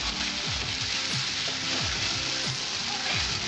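Ground spice paste with dried chilli, salt and turmeric sizzling in hot oil in a pan for a Bengali-style egg omelette curry, a steady close crackling fry that stays even throughout.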